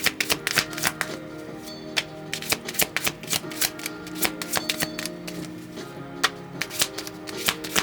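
Tarot cards shuffled by hand, close up, with a quick run of crisp riffling snaps and taps repeating in an uneven rhythm.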